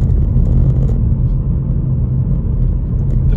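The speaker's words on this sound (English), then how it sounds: "we're just easing off the throttle for the bends, just to get a nicer glide through." A car driving on a road near Comber, Ards, Northern Ireland, easing off the throttle for bends, with a steady low rumble and road noise that hold even throughout, heard loud from inside the cabin.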